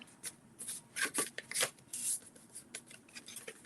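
Scored paper cardstock is folded and creased by hand, giving a series of close, crisp rustles and rubbing swipes in short bursts, quiet and without talk.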